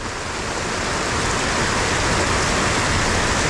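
Heavy rain pours down at a food street in Kuala Lumpur, a dense, loud, unbroken hiss filling the scene with no voices.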